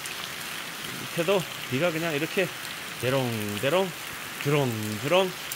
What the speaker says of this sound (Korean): 비가 아주 그냥 끝내주게 오네.